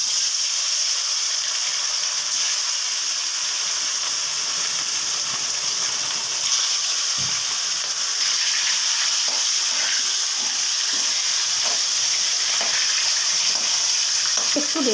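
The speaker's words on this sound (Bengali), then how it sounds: "এখন আমি একে একে মাছগুলো ভেজে তুলে নিচ্ছি।" Rupchand pomfret fish fry in hot oil in a wok, giving a continuous, even sizzle and crackle close by with no talking.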